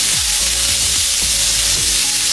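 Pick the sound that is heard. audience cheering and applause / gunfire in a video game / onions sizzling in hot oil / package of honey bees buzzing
onions sizzling in hot oil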